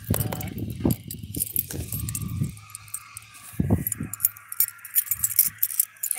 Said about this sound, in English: in my defense, these don't look like car keys.